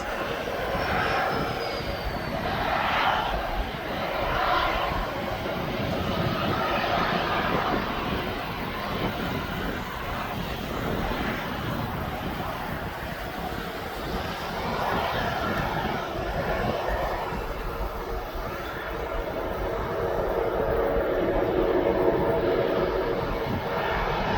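An aircraft rolls for takeoff on runway 09 at East Midlands Airport, a broad, steady engine roar that holds at a strong level throughout and swells slightly toward the end.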